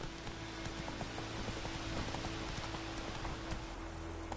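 Roach the horse trots in The Witcher 3, a steady, faint clip-clop of hooves under soft rain-like background noise and a low constant hum.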